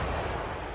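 Artillery and gunfire in the World War II strategy game Sudden Strike 4 form a brief, dense rumble of battle noise that stays steady and fairly loud.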